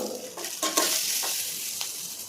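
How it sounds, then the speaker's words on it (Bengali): Turmeric and salt are stirred into frying pulao rice in a pan. A close, continuous sizzle carries several scraping stir strokes, with no talking. "সামান্য হলুদ আর নুন হালকা নাড়িয়ে নিলাম"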